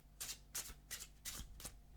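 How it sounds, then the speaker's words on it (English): Cards are riffled and shuffled in five quick, crisp bursts, soft and close, in a steady rhythm. "take the deck, and we'll actually begin by giving it a good"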